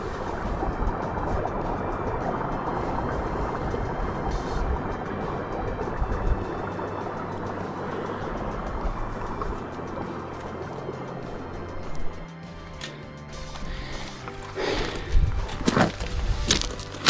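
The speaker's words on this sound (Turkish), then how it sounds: "üzerinde bulunduğum kayalığın altından kocaman bir ırmak akıyor" Steady, close rushing of a large river flowing beneath a rocky outcrop on a mountain trek, a dense unbroken roar running the whole time, with a few thumps and scuffs near the end.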